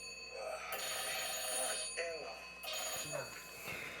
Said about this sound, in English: Switchboard ringing.